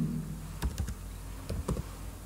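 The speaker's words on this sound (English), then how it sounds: "then type the file name" A computer keyboard is tapped to type a file name, with a few quick clusters of crisp key clicks over a low background hum.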